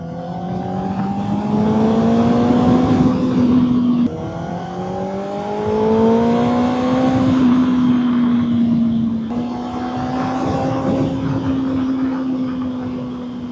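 A 2024 Honda CBR 600RR sports bike engine revving hard, with three sustained high-rpm runs that rise in pitch and break briefly between them, loud and close with no talk.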